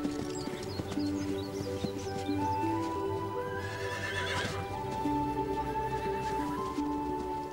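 A horse whinnies loudly mid-way while hooves clip-clop steadily throughout, set against a busy outdoor background of other faint sounds.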